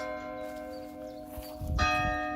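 Church bells ring out with sustained, overlapping tones that swell louder toward the end, sounding moderately close with no talking.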